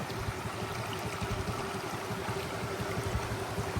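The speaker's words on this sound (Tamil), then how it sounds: "தண்ணி தாறு மாறா போயிட்டு இருக்கு" Steady rushing floodwater from breached ponds flows across fields in Mannar, a continuous churning flow with low gurgling pulses, close and unbroken.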